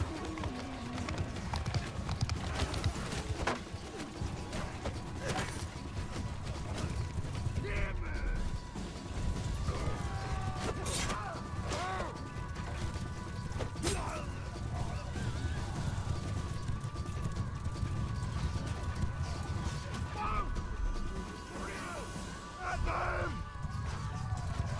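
Massed horse hooves clatter continuously in a battle in the medieval combat game Mount & Blade 2: Bannerlord, a dense rumbling gallop mixed with mechanical clanks and creaks, with talk over it.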